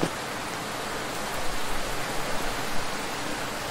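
Steady, loud rain in the Roblox video game, a dense continuous hiss of falling drops with small surges and no talking.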